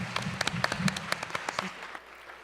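Audience applause at a panel discussion on policing, a short burst of scattered hand claps at moderate distance that tapers off near the end.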